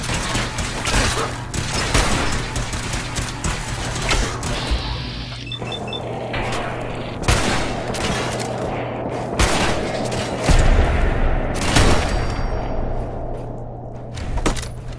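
Rapid gunfire from the video game Fallout 4 on PlayStation 5, dense bursts of shots cracking loudly and continuously with clanking impacts, a faint voice barely underneath.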